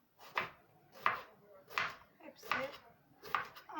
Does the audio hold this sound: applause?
no